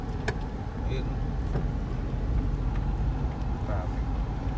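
Road traffic in Cavite: a continuous rumble of passing cars and buses close by, with engine drone throughout and someone talking over it.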